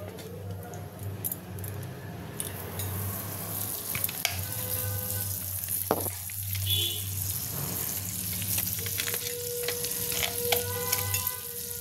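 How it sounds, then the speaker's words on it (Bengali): Butter sizzles and crackles on a hot, thick iron tawa in a steady close frying hiss, with occasional clinks and light kitchen knocks mixed in and no one speaking. "চাটুটা মোটামুটি গরম হয়ে গেছে। এবার আমি এর মধ্যে বাটার দিয়ে দেবো।"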